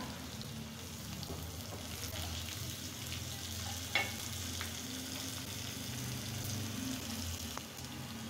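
A spoonful of whole cumin seeds sizzling in hot oil in a pan, a steady crackling fry close by, with a few sharper pops and clinks along the way.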